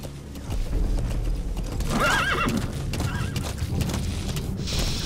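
D-Horse from Metal Gear Solid V whinnies with a clear rising-falling neigh midway, over steady hoof clops and low game ambience, with a brighter burst near the end.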